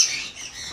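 Birds at a bird-feeding enclosure in Wayanad give a single short, harsh squawk, close and fairly loud, which fades quickly into a quiet background.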